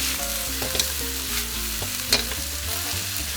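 Steady loud sizzling of noodles and cabbage stir-frying in a hot pan for squid yakisoba, with scraping and tossing sounds throughout and no talking.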